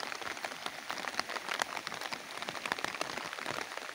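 Heavy rain pours down on a rural farm during a storm, a dense, loud, continuous patter of drops striking surfaces nearby, with no speech.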